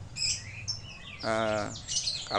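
A green leafbird singing nearby, bright varied chirps and a rich harmonic whistled phrase, with short pauses between bursts.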